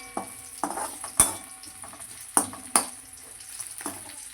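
Sliced onion with salt stirred in a hot pan, producing a soft steady sizzle with repeated scraping strokes and a few sharp clanks of a spatula against the metal.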